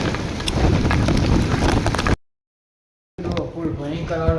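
A strong, gusty wind buffets the microphone in a loud, rough rush during a hailstorm with heavy rain, cutting off abruptly and returning after a pause. A voice talks beneath it near the end.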